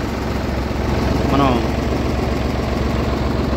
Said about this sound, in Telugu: డీజిల్ సహాయంతో ఒక చిన్న మిషన్ సహాయంతో ఇది పడవ నడుస్తుంది. ట్రాక్టర్ సంబంధించిన ఇంజనే దీన్ని పడవకు వాడుతున్నారు